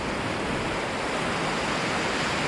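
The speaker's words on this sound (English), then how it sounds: "I'll leave you with some of the waves." Surf rolls onto a beach at Grand Turk in a steady, dense wash of wave noise that stays loud and even throughout, with no voices.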